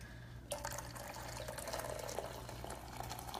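Water is poured into a container in a steady, continuous stream, starting abruptly after a brief quiet moment and staying soft and even throughout.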